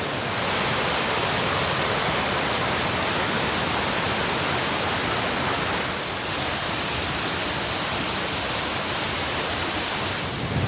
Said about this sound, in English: Had some quite heavy rainfall yesterday, so there's quite a lot of flowing water.